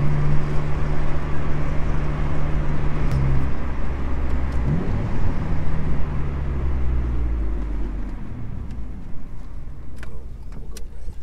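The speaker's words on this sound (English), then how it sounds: "could have such a nice, clean, deep sounding exhaust" A 1999 Honda Civic CX hatchback with a Revel Medallion Touring-S exhaust runs in a low, steady rumble that drones on throughout, easing off slightly toward the end.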